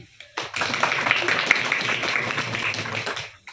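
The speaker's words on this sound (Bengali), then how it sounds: "তা সবার জন্য একটা হাততালি" A classroom of students clapping together, a dense, steady burst of applause lasting a few seconds before tapering off.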